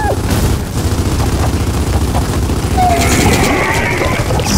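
Rapid gunfire rattles in a Gears of War 4 battle, dense and loud with low rumbling booms, while voices shout over the shooting.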